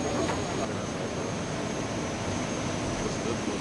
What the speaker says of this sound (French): l'avion présidentiel a été accueilli et escorté par 2 avions de combat de l'armée de l'air italienne.